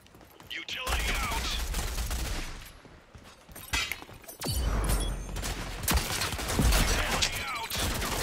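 Gunfire in the video game Rogue Company, with bursts of shots and sharp cracks coming in several clusters. A faint voice talks underneath.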